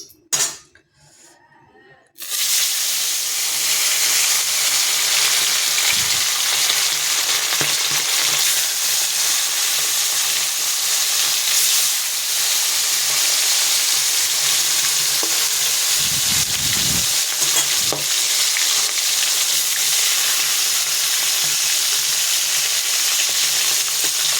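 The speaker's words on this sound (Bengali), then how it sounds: "মাছটা দিয়ে দিলাম, মাছটা ভাজা হোক" Fish frying in hot oil in a pan, a steady loud sizzle that starts abruptly after a short quiet opening and continues unbroken, with a few faint clinks of utensils.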